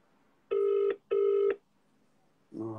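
Outgoing phone call ringing without being answered, two loud close ring tones in quick succession, each about half a second long, followed by the start of a third tone, with no voices.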